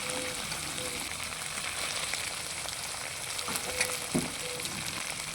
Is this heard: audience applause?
no